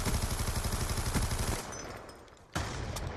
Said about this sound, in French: Bon, on nous tire dessus, là.